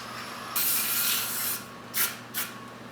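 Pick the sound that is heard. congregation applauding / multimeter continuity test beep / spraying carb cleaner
spraying carb cleaner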